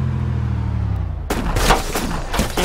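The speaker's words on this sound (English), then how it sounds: "Shooting at us" Gunfire in the video game DayZ during a drive through Elektro, a burst of sharp shots cutting in partway through, loud and close, after a low engine drone.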